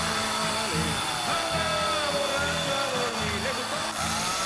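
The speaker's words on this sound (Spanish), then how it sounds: "él trabaja solo con su motosierra. Ahí lo estamos viendo cómo está labrando el árbol para estar dándole forma a un águila" A chainsaw carves a tree trunk into an eagle sculpture, its engine whining steadily and close while the pitch bogs and revs in short repeated cuts, with faint background voices.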